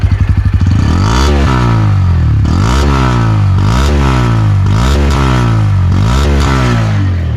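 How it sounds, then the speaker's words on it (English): A Bajaj Pulsar N160 motorcycle with an underbelly exhaust revs loudly and close up in repeated rising bursts, each climbing in pitch and then dropping back to a throbbing idle. "So this is the kind of sound you'll get from the Pulsar 164V with the underbelly exhaust."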